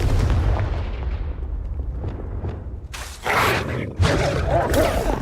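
A Confringo fire blast spell bursts in a Hogwarts Legacy battle: a deep rumbling boom fades out, then two sharp explosive cracks hit close and loud in quick succession.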